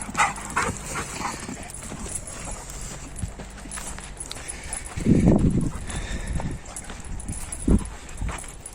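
A dog gives a few short barks and yips outdoors, with louder bursts near the middle and end of the clip over steady background noise.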